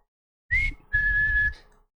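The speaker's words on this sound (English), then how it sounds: "Like, you have a whistle on the top part," Human whistling carries a melody line in a K-pop rock song, two clear sustained whistled phrases over a low sung harmony and backing music, the second held longer and steadier.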